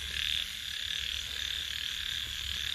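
Frogs at night in wet rural fields keep up a continuous dense croaking chorus, steady and fairly close, with no talk.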